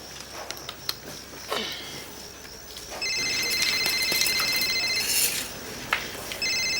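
A phone rings with a bright, warbling electronic tone in repeated bursts over faint room noise, loud and near.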